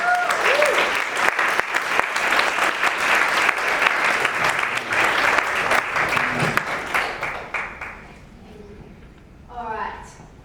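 A festival audience at a live coaching hot-seat session breaks into sustained, loud applause that fades out near the end, followed by faint talk.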